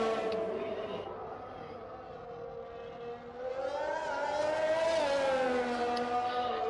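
A Williams Formula One car in a racing video game, heard on board through the S's at the Brazil round, its high-pitched engine note dipping and then climbing steadily as it accelerates, loud and alone without commentary.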